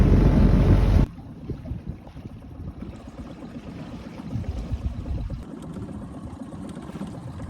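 Sea wind buffets a fishing boat used for bait-line whiting fishing: a loud rushing gust for about a second, then a softer, unsettled whoosh with light splashing and rustle, no talk.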